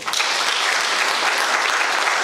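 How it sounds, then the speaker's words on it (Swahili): Loud, steady applause from a church congregation at a Kikuyu choral service, dense clapping throughout with no pauses. "Basi tuwapigie makofi."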